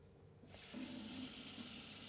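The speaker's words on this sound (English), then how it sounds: "and then rinse it off with water" Water from a kitchen tap runs while hands are rinsed under it. The flow starts suddenly, then becomes a steady, soft, close splash and rush into the sink, with no voices.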